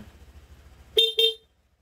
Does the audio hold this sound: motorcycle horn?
yes